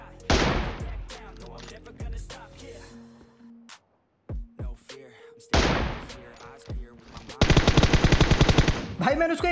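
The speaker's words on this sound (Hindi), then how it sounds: "भाई मैंने उसको एक बॉडी शॉट मारा M24 से, और M4 से एक और बुलेट मारी लेकिन वो बच गया" M24 and M4 rifle fire in PUBG: a few sharp single shots spaced apart, then a rapid automatic burst near the end, with a voice talking between the shots.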